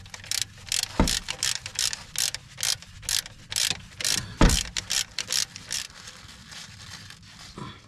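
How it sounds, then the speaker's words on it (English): An extendable ratchet turning a bolt on a Toyota Sienna during a lower control arm replacement, loud close rapid clicking in repeated bursts with a couple of sharp knocks. "So, I got this extendo ratchet right here."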